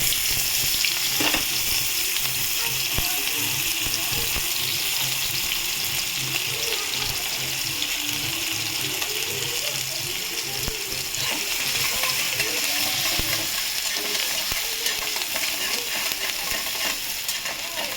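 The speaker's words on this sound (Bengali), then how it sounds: "আর একটা কুচি করা পেঁয়াজ।" Chopped onion with nigella seeds sizzles steadily in hot oil in a home kitchen, a dense, even frying hiss lasting throughout, loud and close, with occasional stirring scrapes and no talking.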